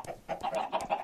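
Chickens in Minecraft give a quick run of about five short, close clucks in a choppy rhythm.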